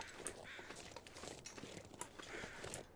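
In the survival game The Long Dark, crows circling over a corpse give faint, distant caws amid wind-like background noise and soft crunching footsteps.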